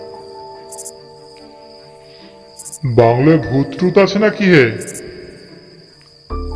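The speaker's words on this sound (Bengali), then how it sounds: "ঝিঝি ডেকে চলেছে অবিরাম।" Crickets trill on and on in a hushed forest at night, a thin steady chirring beneath a voice speaking up close.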